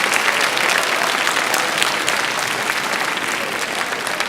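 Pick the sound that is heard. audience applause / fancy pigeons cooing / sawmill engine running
audience applause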